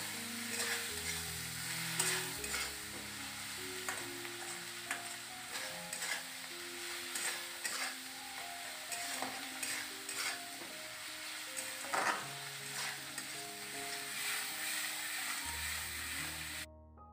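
Tomatoes with chili powder, turmeric and salt sauté in a pan, a continuous sizzle with repeated scraping strokes of a spatula and faint background music, sustained and fairly quiet throughout.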